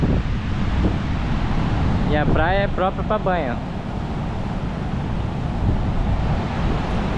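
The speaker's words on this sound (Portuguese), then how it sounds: "Só que tá ventando bastante." Strong wind buffeting the microphone in a constant low roar, with surf in the background and a person speaking briefly midway, on a beach at São Francisco do Sul, Santa Catarina, Brazil.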